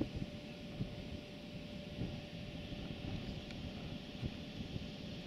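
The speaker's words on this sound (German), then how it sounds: "Ist doch relativ windig hier." Soft, steady wind blusters across the microphone, a low rumbling whoosh with small gusting bumps and no voices.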